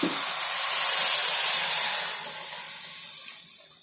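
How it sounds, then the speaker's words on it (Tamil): Milk poured into a pan of cooking tapioca for Tamil-style tapioca halwa, a steady hissing, splashing pour that is loud at first and slowly tapers off, with no voices. "ரெண்டு டம்ளர் பால் இதில் நம்ம சேர்த்துக்கலாம்"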